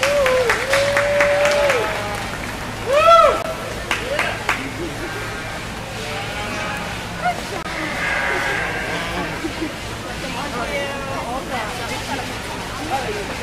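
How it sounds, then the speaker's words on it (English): Applause from the audience at a 4-H/FFA sheep breeding show, a broad steady patter of clapping with crowd murmur and a few sheep bleats, mixed with an announcer's amplified voice throughout. "Let's give them all a big round of applause."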